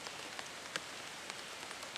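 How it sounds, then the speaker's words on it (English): Steady outdoor rain patters on surfaces, with a few sharper, louder drops standing out now and then over the continuous wash, and nobody speaking. "Damn rain's picking back up."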